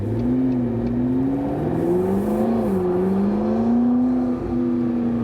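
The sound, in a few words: McLaren 650S Spider V8 engine starting and revving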